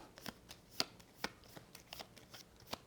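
Small cards or game pieces are shuffled by hand for a board game, quiet and close, a string of soft irregular taps and slides.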